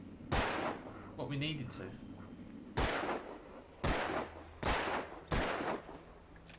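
Gunfire in the Alan Wake video game: five sharp, loud shots spaced roughly a second apart, each with a short decaying tail, with someone talking over the first part.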